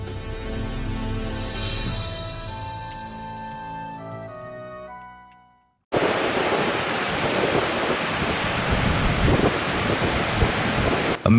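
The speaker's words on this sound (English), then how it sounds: "Amid waves over 5 feet high and freezing winds on Lake Michigan" High waves over five feet and freezing winds on Lake Michigan arrive after a sudden cut: a loud, broadband roar of surf and wind buffeting the microphone. The roar holds steady and close for several seconds, with no talk over it.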